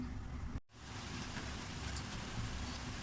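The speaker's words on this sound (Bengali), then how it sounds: "প্রচুর বৃষ্টি হচ্ছে" Heavy rain falls steadily as a dense, constant wash of noise, close and unbroken apart from one brief dropout near the start.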